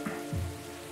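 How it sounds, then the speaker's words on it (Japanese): Steady rain patters and hisses in the Evertale video game, a continuous close wash of drops with a low tonal hum beneath and a brief soft thump early on. "今夜は冷える上にこの雨だ。"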